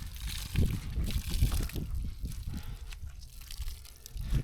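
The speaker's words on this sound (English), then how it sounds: "Now we're cleaning our sponge out." A sponge used to wash a GR86 after a track day is sloshed and wrung out in a bucket of water, with repeated close splashes, drips and gurgles at an uneven rhythm.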